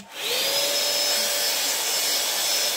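An air styler hair dryer blows a loud, steady rushing stream of air with a faint high whine, starting up quickly and running continuously, close and without talk.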